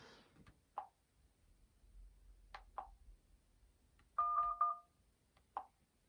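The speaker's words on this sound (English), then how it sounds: "I'm dialing the NHS just to show you guys how it works" Telephone keypad tones sound on a Teclast P80X 8-inch tablet as a number is dialed: a few short separate beeps, then a quick cluster of tones, all clear and close in a quiet room.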